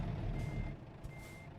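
Steady electronic reversing beeps from a truck backing a trailer down in American Truck Simulator, quiet and regular over a low idling engine rumble, with no talk.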